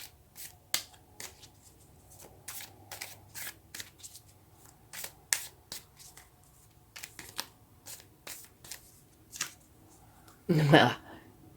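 Tarot cards shuffled by hand to draw a clarifying card: a run of quick, crisp riffling flicks in irregular bursts, close by, ending in a louder flurry, with a voice talking at moments.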